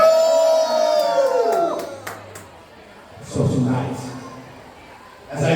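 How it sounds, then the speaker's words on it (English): A wrestling show crowd lets out a loud burst of cheering and whooping, then swells again in a second cheer a couple of seconds later, with a whistle-like tone sliding down at the start. "That's your cue to cheer."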